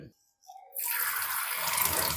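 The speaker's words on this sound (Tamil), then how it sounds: "பார்த்தீங்கன்னா இப்போ தண்ணி போட்டு" Water is poured from a tap onto a UPVC kitchen cabinet surface, starting after a brief pause and then running as a steady, close splashing stream until the end.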